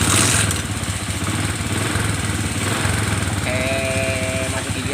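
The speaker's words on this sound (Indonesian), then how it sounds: "untuk sementara coba dulu pakai mesin" A motorcycle engine runs steadily close by throughout, a continuous droning idle while the bike sits in neutral with its rear wheel spinning during a brake repair.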